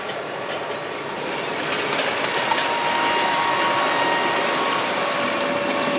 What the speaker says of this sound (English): love that tractor.